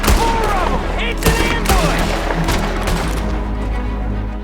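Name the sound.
gunfire in the video game Red Dead Redemption 2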